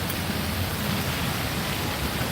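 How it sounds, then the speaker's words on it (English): Steady outdoor rain hisses as an even, dense wash of noise, loud and unbroken throughout, with no voices. "It's just raining outside."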